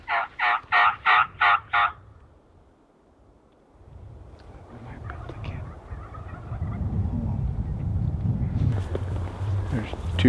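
A series of about five loud, rhythmic wild turkey gobbles rings out from strutting toms in snowy country, then fades to a rustling, windy outdoor bed with a low rumble.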